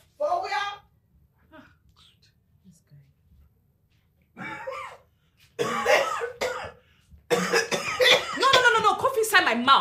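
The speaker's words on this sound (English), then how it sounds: "Cough inside my mouth. Can't you cover your mouth?" A person coughs close by in short bursts during a heated exchange, with other voices talking in between and over the coughs.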